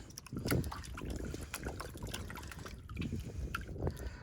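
Sluice material swirls and sloshes in a gold pan of water, a continuous close splashing with small bursts and trickles, fairly quiet and with no talk.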